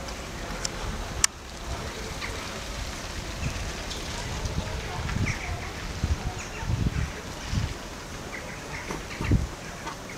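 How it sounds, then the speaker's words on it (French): During snowfall in Montpellier, agitated birds squawk and call in scattered bursts over a steady outdoor wash, with a sharp click early on and a voice speaking faintly. "Les oiseaux sont affolés."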